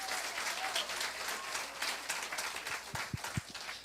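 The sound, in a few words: church congregation applauding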